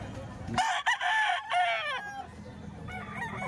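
Roosters crow at a busy chicken market in Baliwag, one long, loud nearby cock-a-doodle-doo followed by a fainter crow in the background over market murmur.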